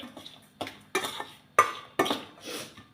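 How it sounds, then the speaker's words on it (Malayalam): A spoon mixes gram flour bajji batter with salt in a bowl, giving five or six distinct clinks and wet scrapes at irregular intervals, close and fairly quiet. "അപ്പോൾ ഇതെല്ലാം കൂടെ മിക്സ് ചെയ്ത്"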